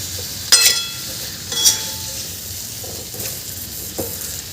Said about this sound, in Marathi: इथे आपण सगळ्या वांगे बटाट्याच्या फोडी घालून घेतलेल्या आहे. याला छान मिक्स करून घ्यायचं आहे.